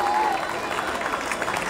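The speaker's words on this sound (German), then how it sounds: "Fetter Applaus für Claudia Roth" A crowd claps and cheers for Claudia Roth at the Cologne Pride street event, dense, continuous applause with a voice speaking over it.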